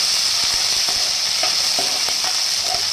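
Finely chopped onions and green chillies fry in a pan with a bright steady sizzle, punctuated by regular scraping and tapping strokes of a spoon as they are stirred.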